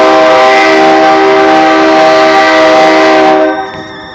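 A BNSF freight train passing close by, its horn blaring loud and steady with a chord of sustained tones for several seconds before cutting off, leaving the rumble of the moving cars.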